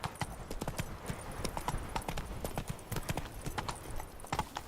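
Roach, the horse in The Witcher 3, gallops with rapid, rhythmic hoof clip-clops on the ground, steady and fairly quiet, with faint game ambience beneath.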